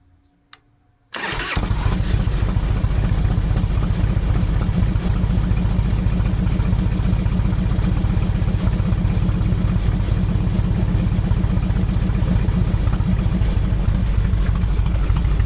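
A 2006 Harley-Davidson Softail Deluxe twin cam carbureted engine with fishtail mufflers cranks and fires up after a moment of quiet, then settles into a loud, throbbing idle that runs steadily nearby.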